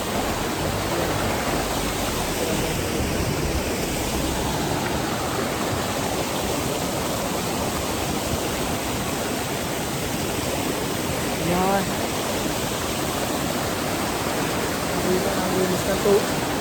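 Steady, dense rush of Awao Falls waterfall fills the whole clip, loud and close, with a brief voice rising over it near the end.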